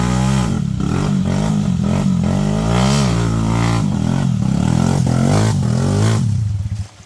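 A Rusi motorcycle engine revs hard and loud on a rough trail, its pitch rising and falling through repeated throttle blips before cutting off at the end, with no voices.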